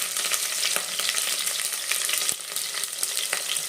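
Curry leaves and green chillies deep fry together in hot oil, a dense close crackling sizzle with occasional sharp pops and no speech.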